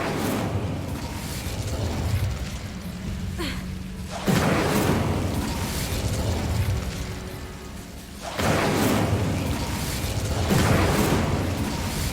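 A spell cast in Hogwarts Legacy lets out a sudden loud burst with a whooshing, roaring rush. It rises abruptly and holds for several seconds against steady game noise, and a second similar surge comes a few seconds later.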